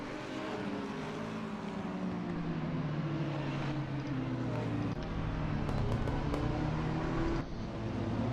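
Race cars in a sim racing game setting off on a warm-up lap at Barcelona, a steady droning engine roar with rising and falling tones, moderately loud and continuous, with light talk faintly underneath.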